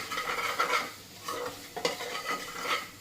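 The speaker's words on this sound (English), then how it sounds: "you stir it" Pork with ginger, garlic and onion being stirred in a pan, a close, steady sizzle with scraping spoon strokes and a few sharper knocks, no talking.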